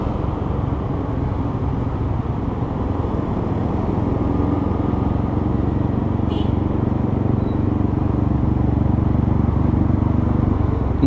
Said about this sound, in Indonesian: Mega Pro Hiu pakai knalpot Tiger. Tiger Revo.